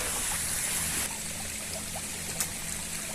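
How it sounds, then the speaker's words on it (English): A small stream trickles and burbles along the Great Glen Way near Loch Ness, a steady watery rush that softens after the first second, with a few light splashes and no talking. "Never before have I been happier to see a stream"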